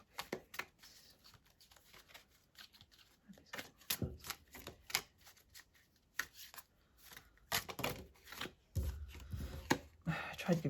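Tarot cards are shuffled and drawn, giving repeated crisp riffling and slapping bursts at close range, irregular and busier toward the end, with occasional soft talk.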